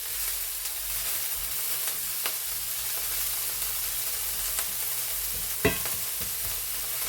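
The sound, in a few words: jalapeno peppers and tomatillos cooking in cast iron skillet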